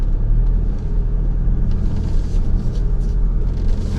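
A vehicle engine rumbles loudly and steadily while driving through a muddy pit, with a deep, constant low drone and slight surges in revs throughout.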